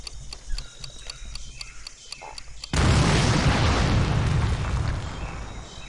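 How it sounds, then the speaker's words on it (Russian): A sudden loud blast erupts partway through, followed by a sustained rumbling roar, after a stretch of rhythmic clicking and faint voices, in the video game Medal of Honor: Pacific Assault. "Берегись, взрываю!"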